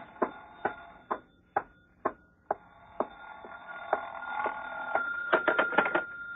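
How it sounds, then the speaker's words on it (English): A telephone used as a sound effect in an old radio drama rings with sharp, evenly spaced bell strikes, then a busier, rattling ring builds and grows denser toward the end, fairly close and heard alone. "Oh, excuse me, the phone."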